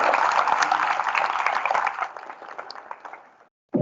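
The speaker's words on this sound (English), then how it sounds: "a round of applause" School audience applauding at a prep school farewell assembly, a dense burst of clapping from a crowd that thins out and stops after about three and a half seconds.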